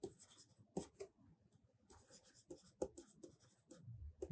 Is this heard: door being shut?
no